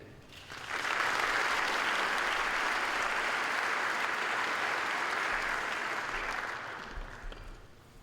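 A convocation audience applauds to welcome Dean Buchanan in a large hall, a broad, even wash of clapping that swells in after a moment, holds steady for several seconds, then tapers toward the end.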